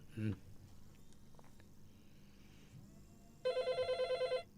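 A telephone rings for a listener call-in on a Malay-language radio show, a rapid electronic trilling ring in even pulses near the end, following a quiet stretch with faint studio noise.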